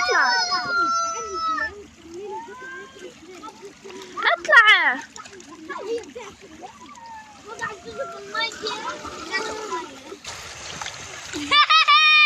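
A person falling into the sea off a Gaza beach, a sudden splash midway through, surrounded by children and adults talking and calling out over lapping water.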